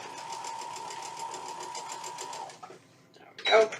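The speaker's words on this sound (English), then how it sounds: "All right, so let's sew these up together." A sewing machine stitches pieces of cotton quilt fabric together in a steady, rapid close-up whir that stops after a few seconds, followed by a brief clatter and a short voice.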